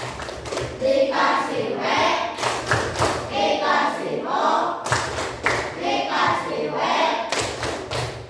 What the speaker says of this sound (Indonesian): Untuk yang sudah bertanya kita kasih tepuk tangan dulu ya.